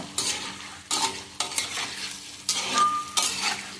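Egg masala frying in a pan, a steady sizzle broken by repeated scraping stirs of a spoon against the metal, close and fairly loud with no talking.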